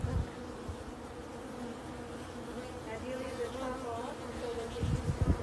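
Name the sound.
bees buzzing at hive entrance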